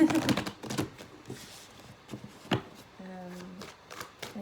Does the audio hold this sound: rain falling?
no